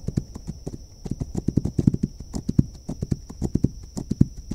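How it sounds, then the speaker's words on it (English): Steady clip-clop of horse hooves walking at an even pace in a video game, close and fairly loud, with a faint high tone running underneath throughout. "I feel like the horse is kind of loud though."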